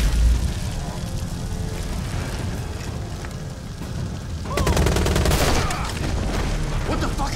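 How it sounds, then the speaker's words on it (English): Dense gunfire in the video game Beyond: Two Souls, a steady rattling fusillade with a louder burst of shots midway, mixed under shouting voices. "Stop shooting!"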